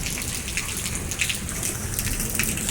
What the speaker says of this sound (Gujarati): અત્યારે વરસાદ આવ્યો અને પવન સાથે વરસાદ આવ્યો એટલે બહુ જ વરસાદ આવ્યો.